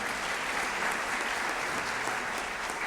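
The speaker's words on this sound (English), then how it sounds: "Round of applause for them, everybody" A crowd at an Employee Service Day event breaks into continuous applause, a thick, even roar of many hands clapping at once that holds steady and fairly loud throughout.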